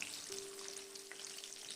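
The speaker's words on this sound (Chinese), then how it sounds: "把打好的鸡蛋不用搅，直接倒入锅中，给它煎一下" Beaten eggs poured unstirred into hot cooking oil in a wok, sizzling and crackling steadily at close range with no talking.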